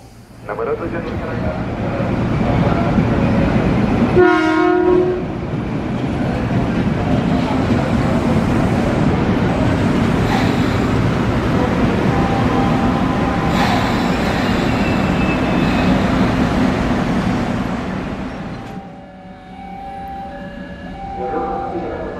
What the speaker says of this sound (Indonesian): Oke, kita tunggu langsiran cc 300.